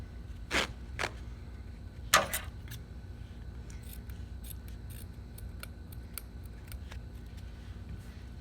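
Scissors cut down a 3-inch roll of Coban self-adherent wrap: a few crisp, close snips in the first seconds, then faint light handling noises over a quiet background.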